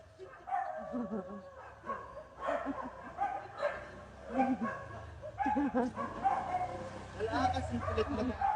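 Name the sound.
dogs barking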